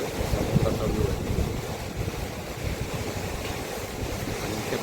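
Sea waves wash in steadily beside a small seaside eatery, a broad rushing surf mixed with wind buffeting the microphone, continuous and fairly loud.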